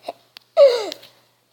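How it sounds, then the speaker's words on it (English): A single wet fart noise, close and fairly loud, lasting about half a second with a squeaky, tonal quality that slides downward in pitch and then trails off, set between short stretches of silence. "A wet fart."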